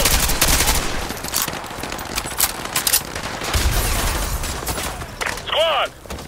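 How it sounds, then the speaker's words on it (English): Loud bursts of automatic gunfire from a Call of Duty: Modern Warfare 2 Remastered firefight, rapid rattling volleys running almost continuously, with shouted voices in the mix and a brief whistling sweep near the end. "Squad, put suppressing fire on that house!"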